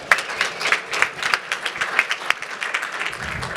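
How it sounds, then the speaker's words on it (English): Audience applause at a live conference event, a steady burst of many hands clapping that fills the room for several seconds and then thins toward the end. "Please, everybody give Tarek a round of applause"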